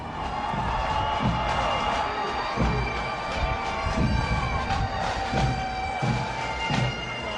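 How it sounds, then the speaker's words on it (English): A pumped-up playoff crowd cheers and whoops in a loud, unbroken swell, with scattered dull thumps and shouts punching through the roar at irregular intervals. "The crowd is pumped. They are ready to go."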